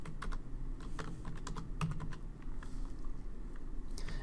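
Data being typed into a spreadsheet on a computer keyboard, with quick, light keystrokes tapping close by in irregular bursts over a faint background hum.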